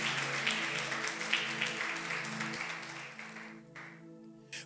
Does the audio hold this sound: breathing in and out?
no